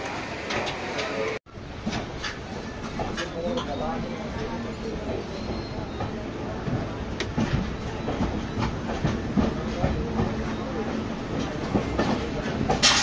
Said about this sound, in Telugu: ఎగ్జాక్ట్గా 8:50కి అయితే స్టార్ట్ అయిపోయింది ట్రైన్ అయితే